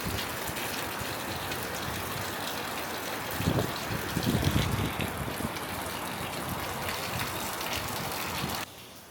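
Steady rain pours down in the Philippines, a dense hiss of drops on hard surfaces that swells briefly midway, then cuts off abruptly near the end.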